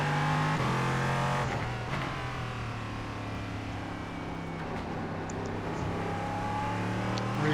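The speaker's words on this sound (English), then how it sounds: "It's a faster class car behind." Race car engines in the iRacing sim drone steadily and loudly throughout, with sustained engine tones shifting slightly as a faster-class car closes in from behind; no one speaks.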